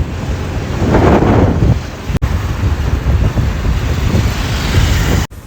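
Outdoors at a river, strong wind buffets the microphone over a steady rush of flowing water, loud and continuous with a couple of brief dropouts; no one speaks.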